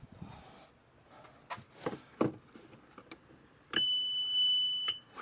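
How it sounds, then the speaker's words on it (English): A steady electronic backup buzzer tone on an EZGO golf cart sounds for about a second after some scattered clicks and knocks, fairly close and loud. "We got a backup buzzer."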